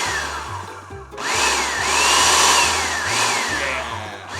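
Food processor pulsing butter and cream cheese into berry hand pie dough, a loud whirring motor surging in short repeated bursts with rising and falling pitch, close up and with no talk.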